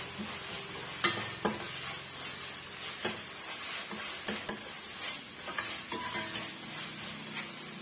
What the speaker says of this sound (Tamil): நல்லா வந்து இந்த மாதிரி வதங்கி வரட்டும்